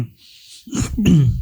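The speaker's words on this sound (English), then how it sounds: "You clear your throat anyway." A person clears their throat with a low rasping rumble followed by a brief voiced hum, close and fairly loud, standing alone without speech.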